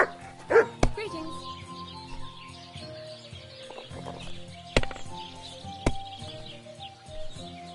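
A dog in the video game Kingdom Come Deliverance 2 gives a few short barks and yips among soft whimpers, set against quiet game ambience, with a voice speaking briefly.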